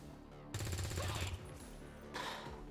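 Soldiers firing in XCOM 2 during a supply raid, with a loud burst of gunfire that lasts about a second, a quieter stretch, then another short volley near the end.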